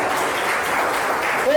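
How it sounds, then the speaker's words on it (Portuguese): A congregation at a church seminar applauds, a dense wash of clapping throughout. A voice breaks in at the very end. "Aplauda o Senhor Jesus bem forte."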